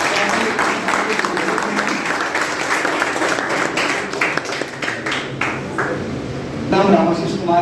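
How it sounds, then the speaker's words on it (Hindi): An audience at an anniversary celebration for an education class breaks into sustained applause, a dense and fairly loud patter of many hands clapping that holds steady throughout. "तो एक बार इनके लिए फिर से तालियां बजा दो।"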